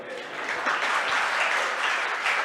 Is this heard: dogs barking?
no